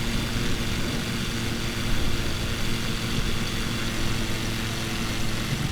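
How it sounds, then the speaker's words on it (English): Propeller aircraft engine in a flight simulator game, throttled back during a flight into a storm over the Bermuda Triangle, a steady loud drone with constant broadband noise and no distinct changes. "Let's decrease the engine a little bit here, so we don't get a failure from the too much throttle."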